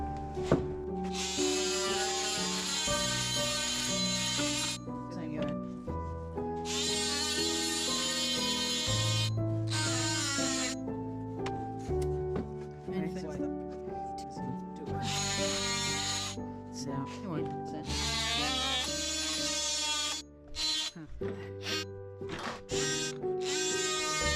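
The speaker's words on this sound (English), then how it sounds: "So I'm just going to shave it off with this oscillating tool." An oscillating tool shaves foamed glue off a countertop, producing a loud, buzzing whine in repeated bursts of a few seconds each, with short pauses and shifts in pitch as the blade bites and lifts.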